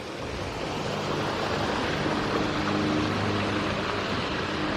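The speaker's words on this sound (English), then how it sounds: "I'd say this is medium water flow. It's not a trickle, but it's not a rush either" Water flows at a medium rate, neither trickle nor rush, as a steady, broad, close rushing wash with no pauses and no voices.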